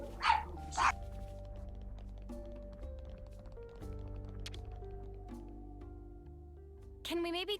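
Small dogs bark a couple of sharp times in a room over calm background game music from Xenoblade Chronicles 3, then bark again near the end, with voices talking in between.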